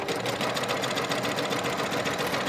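A sewing machine stitching a fabric bag runs in a fast, steady whirring chatter, loud and close throughout with no voices over it.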